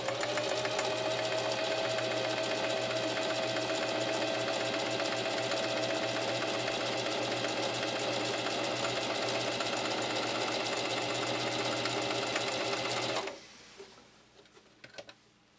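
Singer Heavy-Duty 4423 sewing machine running a stitch, a steady close mechanical whir and rapid needle clatter for about thirteen seconds before stopping abruptly.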